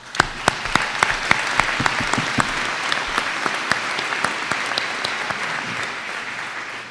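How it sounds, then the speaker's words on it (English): At a 2018 community college commencement ceremony, a large audience applauds its graduates with a dense, sustained burst of clapping, individual sharp claps standing out near the front as the ovation slowly eases. "Let us applaud these graduates."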